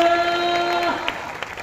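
A congregation at an Odia Christian service claps loudly, a busy wash of applause under a fading sustained tone, broken by a few sharper individual claps toward the end.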